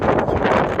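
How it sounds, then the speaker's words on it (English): Strong outdoor wind buffets the microphone in a continuous, loud roar with rushing gusts, heard alone on a windy day. "The wind's been horrendous, it's battered us for the last 40 minutes."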